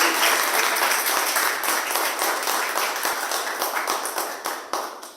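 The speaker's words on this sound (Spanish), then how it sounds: "Dale un fuerte aplauso a la presencia de Dios" Church congregation applauding during a Spanish-language service, loud dense clapping that holds steady and then gradually tapers off.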